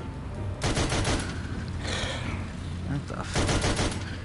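Gunfire in the Sam & Max VR video game, loud rapid bursts of shots in two clusters with a sustained noisy stretch between, while a man swears under the shooting.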